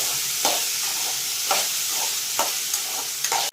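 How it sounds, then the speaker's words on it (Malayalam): Green peas sizzle in a hot pan while a spoon scrapes and stirs them in a regular rhythm, about once every second. "ഗ്രീൻ പീസ് അത് ശകലം ഒന്ന് ഇളക്കി ഒന്ന് മൂപ്പിക്കുന്നെന്ന് മാത്രമേ ഉള്ളൂ"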